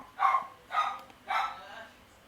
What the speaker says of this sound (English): I don't know why Obi's barking now